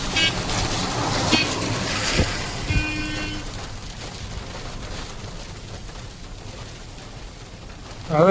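Storm rain during a windstorm, falling as a steady broadband hiss throughout, with a sharp crack or knock near the two-second mark and a brief tone shortly after.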